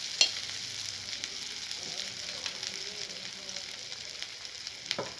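Onions frying in oil in a home kitchen pan, a steady soft sizzle running throughout with faint stirring scrapes and a couple of brief clicks, no talk.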